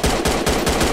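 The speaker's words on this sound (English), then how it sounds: "Can't see where I'm shooting." Rapid automatic gunfire in a shooter video game, a loud, close burst of evenly spaced shots, about five in one second, with no talk.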